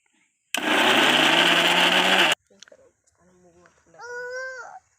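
An electric mixer grinding milk cream for homemade ghee, a loud, steady whirring burst of about two seconds that cuts off abruptly, followed by a person speaking.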